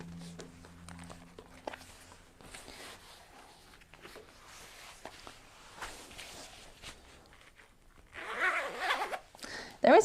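A zipper on leather over-the-knee stiletto boots is worked with scattered rustles and handling noises, then pulled in a loud, close, rasping run near the end.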